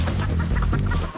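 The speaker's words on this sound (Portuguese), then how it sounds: "Tem uma galinha." A wild chicken in Grand Theft Auto V clucks in quick, close bursts over a low steady background rumble, with no talk.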